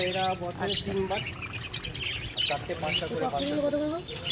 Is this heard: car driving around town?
no